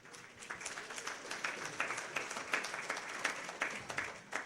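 An audience at a lecture hall talk applauds, giving a dense, continuous patter of many hands clapping at moderate volume from a distance.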